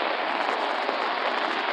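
Steady rain hisses outdoors on a summer day outside Lotte Mart in Haeundae, Busan, a dense, even wash of close patter with no voices.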